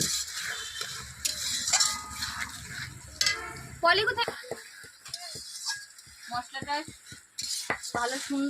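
Spice paste stir-fried in a pan with a little hot water added, for a village-style Bengali fish-head and greens dish: a spoon scrapes and clatters against the pan in bursts over a soft sizzle, with a little talk.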